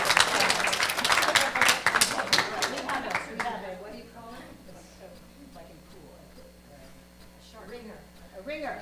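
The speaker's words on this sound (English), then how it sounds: "Let's give them a round of applause." An audience at an environmental talk breaks into a short burst of clapping that fades after a few seconds, followed by people talking over faint room noise.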